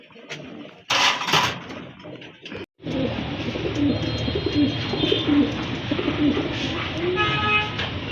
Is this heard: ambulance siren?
no